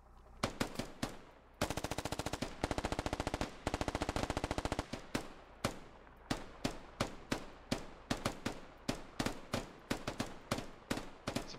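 Automatic gunfire in a military tactical shooter game: rapid machine-gun bursts and a long sustained stream of fire, then steady single and paired shots, loud and close with no talk over it.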